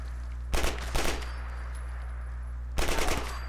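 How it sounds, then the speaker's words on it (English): An Uzi submachine gun from a Fallout 4 mod fires in three short bursts, each a quick rattling volley that sounds slightly distant, over a steady low background hum. "Now, I don't know what a Uzi sounds like in real life"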